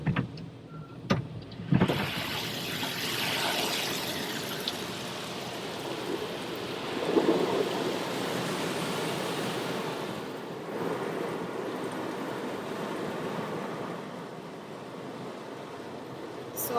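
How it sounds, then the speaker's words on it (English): An automatic car wash dryer blows a loud, steady rush of air, roaring continuously with a broad hiss that swells slightly midway and holds steady to the end. "this is where like it's kind of drying the car from all the water that they sprayed"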